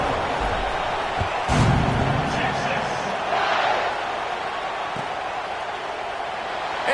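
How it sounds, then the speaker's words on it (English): Football stadium crowd buzzing after a touchdown, a broad steady roar of many voices with a brief surge, heard under a play-by-play announcer. "this crowd is buzzing after that last score"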